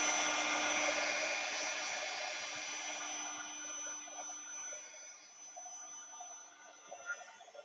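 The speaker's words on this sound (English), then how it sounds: "I'm going to dry this. It's a heat gun kind of day." Handheld heat gun drying a paper craft tag, a steady whirring fan hiss with a faint tonal whine, loud and continuous, easing slightly toward the end.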